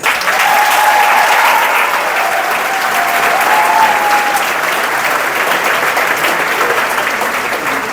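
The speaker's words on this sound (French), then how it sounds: "Est-ce qu'on peut acclamer pour ça?" An audience at a Paris gospel festival bursts into loud, sustained applause, with a few whistles and cheers rising over the dense clapping throughout.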